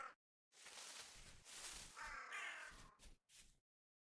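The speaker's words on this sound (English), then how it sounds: "This is a mass murder of crows over here." A big flock of crows caws loudly and continuously in the survival game Vintage Story, with dense overlapping harsh calls broken by brief silences.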